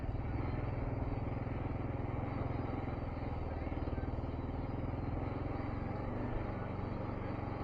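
A dirt bike motorcycle engine churns steadily while riding through deep sand at St Clair OHV, a close, constant buzzing drone with rhythmic pulsing throughout.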